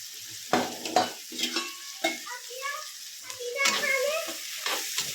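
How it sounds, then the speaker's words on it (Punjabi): Spices sizzle and fry in hot oil in a pan as a tempering for potato and cauliflower, with stirring scrapes and clinks breaking through in short bursts, fairly close and moderate in level. "ਇੱਥੇ ਮੈਂ ਤੜਕਾ ਲਗਾ ਰਹੀ ਹਾਂ ਆਲੂ ਗੋਭੀ ਨੂੰ"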